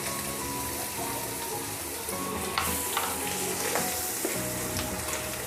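A pork chop simmers and sizzles in creamy mushroom sauce in a pan, with close bubbling and frying and scraping stir strokes through the sauce, all continuous and fairly soft.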